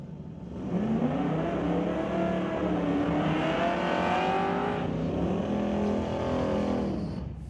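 A drag race car in an ET bracket race launches hard into a wheel stand, its engine roaring up loudly and building in pitch over several seconds before fading as it pulls away.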